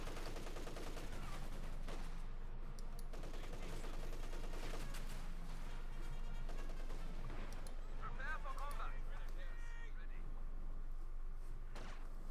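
Field guns fire in the Company of Heroes 2 battle game as several sharp booming shots land among sustained battle noise and gunfire, heard under a caster's steady commentary.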